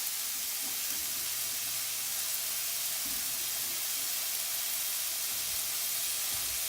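Garlic and olives frying in a hot pan for vegan crispy tacos, a steady even sizzle with soft hiss running throughout at moderate level, no voices.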